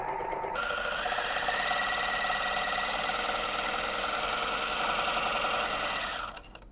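A 4-thread overlock serger stitching down one side of two layers of muslin fabric, a steady close mechanical whir running continuously for about six seconds before winding down, no voices.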